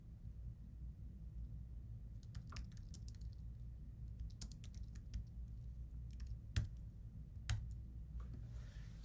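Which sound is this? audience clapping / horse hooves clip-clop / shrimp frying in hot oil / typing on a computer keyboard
typing on a computer keyboard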